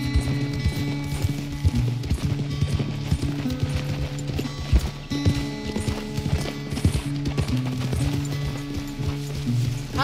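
Rhythmic hoof clip-clops of a trotting horse in Red Dead Redemption 2, steady and close, with occasional snorts and a faint whinny over a soft game-like background.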